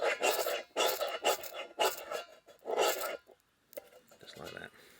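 A ferro rod is struck repeatedly onto a small pile of birch bark tinder, giving rhythmic harsh scraping rasps close up, about six strokes, then quieter rustling as the tinder catches.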